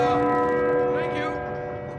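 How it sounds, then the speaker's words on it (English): Large clock tower bell in Uncharted 4 struck once, its rich ringing tone sustained and slowly fading over two seconds. "Let's ring the bell."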